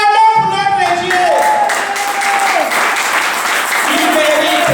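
During a Sunday Assemblies of God worship service, a congregation claps and cheers over sustained music or singing, forming a loud, continuous wash of applause with voices.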